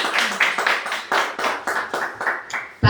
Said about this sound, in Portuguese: dar um aplauso ao Senhor